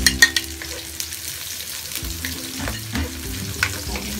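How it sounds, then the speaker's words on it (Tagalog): Garlic frying in oil until light brown for a no-oven pizza sauce, giving a close, steady sizzle with scattered stirring scrapes and a few sharper clinks near the start. "Lalagay na po natin ang ating bawang. Kailangan light brown ang bawang."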